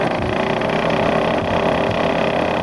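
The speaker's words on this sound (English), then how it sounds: "Like other flying machines, the ParaPlane has an engine." Powered parachute engine running steadily on a ParaPlane being tuned up, a loud continuous drone with a dense low rumble and no pauses.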